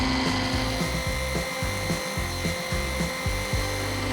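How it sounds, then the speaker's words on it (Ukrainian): A part of a 1979 spinning rod's reel seat is pressed against a buffing wheel loaded with coarse paste, giving a steady close grinding whir with repeated rubbing surges as the piece is moved evenly across the wheel. "Наносимо на круг грубу пасту і притуляємо до нього одну з частин водилища, рівномірно рухаючи її її."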